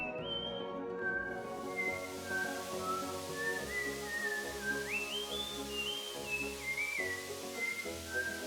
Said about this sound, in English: he whistles the Super Mario Brothers theme